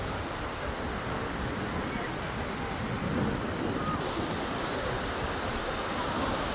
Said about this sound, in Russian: Очень сильный ветер и волны.